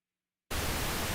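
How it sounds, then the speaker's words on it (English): White noise from an analog plugin cuts in abruptly after a silent half second, then holds as a steady, dense hiss to the end. "There's our white noise."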